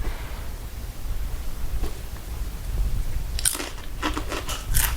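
Microwaved snack chips crunched between the teeth in a few sharp close bites, followed by quieter chewing, with no talk.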